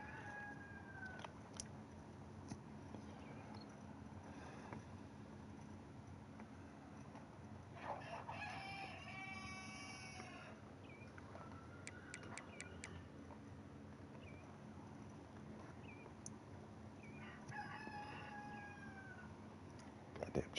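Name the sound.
chickens crowing and clucking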